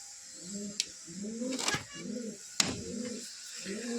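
Caged pigeons give close, rhythmic low coos in repeated phrases, broken by a few sharp clicks and rustles.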